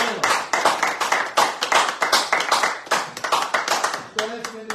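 Audience clapping during a radio show, a dense run of sharp hand claps close by that thins out near the end, with voices heard over it.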